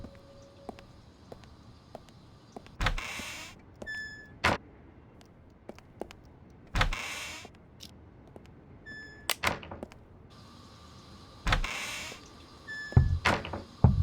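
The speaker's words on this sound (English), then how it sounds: "Who's that knocking?" Intermittent knocking from next door: several sharp, separate knocks spaced a few seconds apart, with a small cluster near the end, set against a quiet room with faint background noise.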